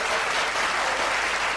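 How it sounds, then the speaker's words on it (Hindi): An audience at an agricultural event on vegetable crop management applauds in a dense, even burst of clapping, loud and sustained for the whole moment. "जोरदार तालियां एक बार बजा दीजिए।"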